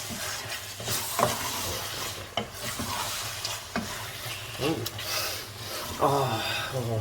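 Spaghetti bolognese ingredients are mixed in a pot, with a steady close sizzle and repeated scraping, rubbing strokes of a spoon through the sauce. Brief bursts of voice sound over the stirring.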